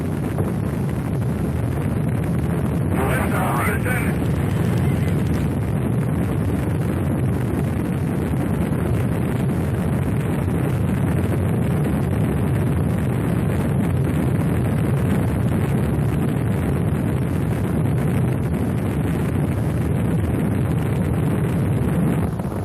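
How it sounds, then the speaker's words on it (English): Main engines of America's first space shuttle roar at liftoff, a dense, steady, loud rumble that fills the whole stretch without letup, with a brief brighter burst near the start. "And we have liftoff of America's first space shuttle."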